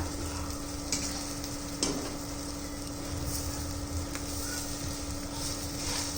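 Masala pav bread toasting on a hot pan, with a steady low sizzle and a few light clicks of a utensil, quiet and close, with no talk.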